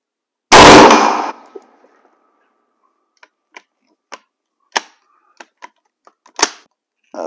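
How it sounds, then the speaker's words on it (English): A .30-06 military surplus 03-A3 rifle fires one loud, close shot at a 100-yard steel gong, followed by a scatter of faint, sharp ticks and clinks. "Go back to the 100-yard gong"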